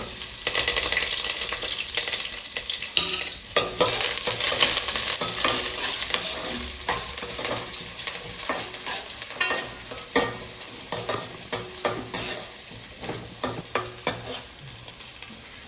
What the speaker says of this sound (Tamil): வெங்காயம் போட்டு வணங்க விட்டு